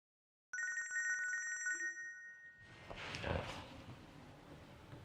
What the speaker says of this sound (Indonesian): Ada telepon, Pak, dari tim kita.